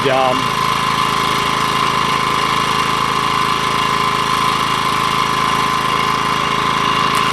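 A Homelite HG600 generator, a rebadged Yamaha EF600, runs close and loud with its choke set partway, holding a steady, even engine drone and constant vibration throughout after a brief voice at the start.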